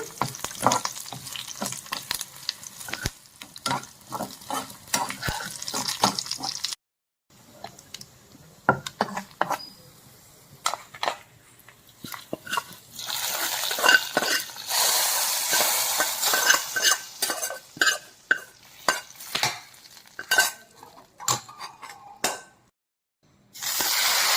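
Spices and curry leaves crackle and sizzle in a hot pan while a utensil scrapes and stirs, with busy bursts broken by brief pauses.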